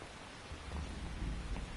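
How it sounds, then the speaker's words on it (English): Steady rain with a low rolling rumble of thunder in Metal Gear Solid 3, a dense continuous wash of rainfall over a deep, swelling boom, brief and fairly quiet with no voices. "You can entertain me until the rain stops."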